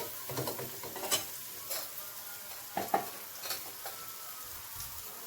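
Fresh shim beans and chingri prawns sautéing in a pan at home, with a soft steady sizzle under scattered scraping and clinking of a spatula stirring against the pan, close and fairly quiet.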